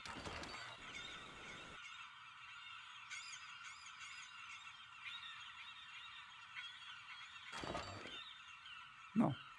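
Seagulls squawk loudly and steadily in the pirate sailing game King of Seas, a constant raucous chorus that runs almost unbroken, with brief louder bursts near the start and end.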